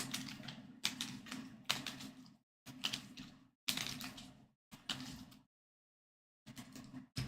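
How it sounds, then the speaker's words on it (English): Board game cards for Cartographers are shuffled and drawn on a table, a series of close riffling, flicking bursts with brief pauses and a longer gap near the end, no talking. "Shuffle these up and draw 3."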